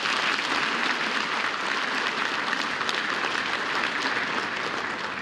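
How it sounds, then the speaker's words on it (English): A big round of applause from a large audience at an export awards ceremony, dense and sustained at full strength throughout with no talk over it. "I want to begin the evening by asking for a big round of applause by everyone"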